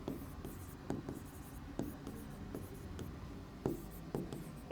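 Chalk or marker strokes on a board during a physics lesson, a steady scratchy scraping broken by sharp taps as each stroke begins, close and continuous with no talking.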